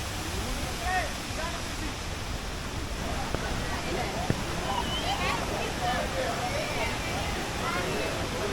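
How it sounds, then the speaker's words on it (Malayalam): Small waterfalls and flowing water at Vagamon, at a bathing spot near a cave, give a steady, even rush of broadband water noise that runs through the whole stretch at a moderate level. "ഇവിടെ ചെറിയ വെള്ളച്ചാട്ടങ്ങൾ കാണാം. വെള്ളം ഒഴുകി ചെന്നാണ് അങ്ങോട്ട് വെള്ളച്ചാട്ടം ആവുന്നത്."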